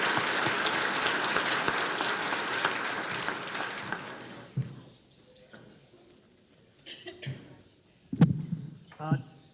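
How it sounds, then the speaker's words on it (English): Applause from an audience at a regional council annual meeting, a dense wash of clapping for about four seconds that fades out, followed by a few scattered voices. "Anybody who can sit through that deserves a round of applause."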